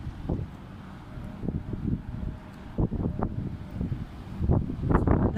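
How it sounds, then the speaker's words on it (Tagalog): Strong wind blasting through a sandstorm in Kuwait, a continuous low roar with rough gusts buffeting the microphone and building toward the end. "Lakas ng hangin. Grabe."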